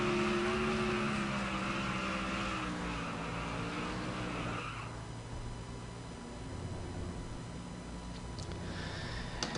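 Toyota race cars at a Las Vegas race do burnouts, their engines droning loudly and steadily with tyre-squeal tones that fade partway through before the roar builds again.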